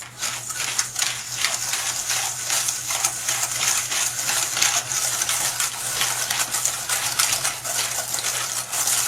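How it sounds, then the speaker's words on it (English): Whisk beating egg and brown sugar together in a bowl, a steady rapid scraping and tapping rhythm against the bowl sides over a faint constant hum, with no talking. "You want to whisk out all the lumps of the brown sugar with the egg."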